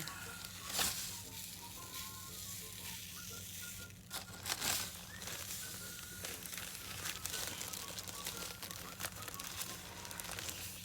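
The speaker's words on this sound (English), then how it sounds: "open the bag, and sprinkle the salt all over" Salt sprinkled and dumped from an opened bag, a soft steady crinkly hiss of grains scattering with a few louder rustles of the bag, close and continuous with no voices.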